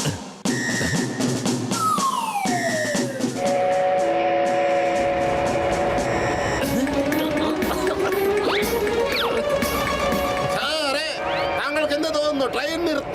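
A cartoon steam train sounds its whistle in long, sliding tones over a rumbling, busy mix of rail noise and music, with voices talking throughout.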